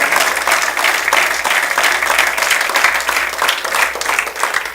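Church congregation clapping loudly and continuously in praise, a dense, steady round of applause filling the room with no speech over it.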